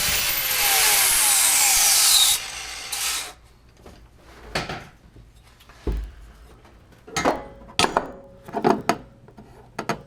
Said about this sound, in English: This bottom section here with the grinder is going to get trimmed back a little bit so it mates up better with this section here.